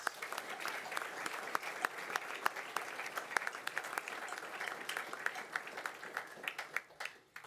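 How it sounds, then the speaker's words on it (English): An audience applauds at a military retirement ceremony with dense, sustained clapping at moderate distance, individual sharp claps standing out, thinning to scattered claps toward the end. "Let's give them a big round of applause."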